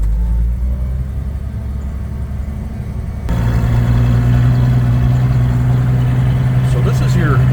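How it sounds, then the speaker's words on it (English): A Toyota FJ Land Cruiser engine in low range rumbles, then steps up to a louder, steadier drone as it shifts into reverse and backs up, a close, heavy hum under someone talking. "we'll put it in reverse down here"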